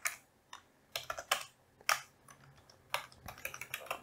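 Computer keyboard keys clicking in quick irregular bursts while Arduino code is typed, close and fairly crisp with short pauses between runs of keystrokes.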